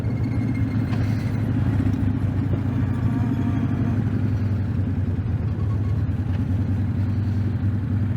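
A Harley-Davidson Dyna motorcycle rides through cold winter evening air, its engine a steady, loud low rumble that holds constant throughout, with wind noise over it.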